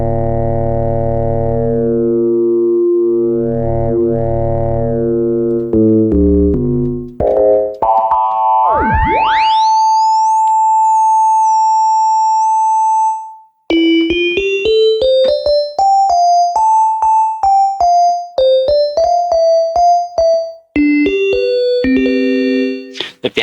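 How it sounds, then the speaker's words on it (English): Janus IV modular polysynth playing a clean sine wave oscillator tone: a run of steady pitched notes that climbs and shifts, a sustained tone with a pitch sweep, and then a quick sequence of short melodic notes, loud and alone. "Let's just go with the sine wave."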